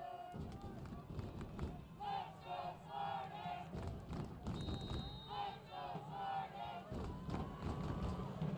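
High school football crowd at a Fargo North versus Bismarck game, cheering and chanting in loud rising surges with thumps and babble, an announcer's voice running over the noise.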